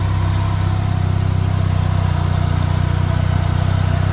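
A turbocharged Mazda RX-7 rotary engine idles steadily up close, with a loud, continuous low rumble and a fast, even pulsing, and no voices.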